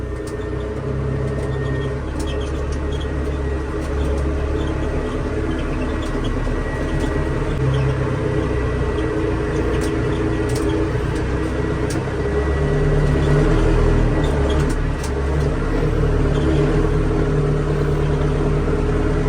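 A loud, steady engine drone from a combine harvester with a full grain tank driving through a wheat field to unload, a constant close mechanical hum with no talk.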